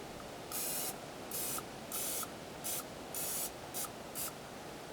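Short bursts of cooking spray hiss out in quick succession, about seven brief sprays close to the microphone with small pauses between them.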